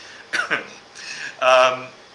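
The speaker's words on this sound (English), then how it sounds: "I'm going to cough a little bit" A few short throaty bursts, like coughs or throat clearing, close to the microphone, followed by a brief stretch of voiced sound.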